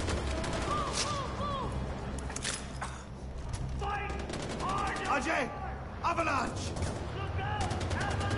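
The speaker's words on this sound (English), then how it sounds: "The shooting is great." Rapid gunfire bursts crack out in the shooter game Far Cry 4, repeated sharp shots in quick clusters, with someone talking over the action.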